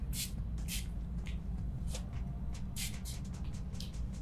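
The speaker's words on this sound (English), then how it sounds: "Kind of just go in like little sections and mist a little bit into the hair." Several short hissing bursts of hair spray misted in quick succession over a steady low background hum, close by.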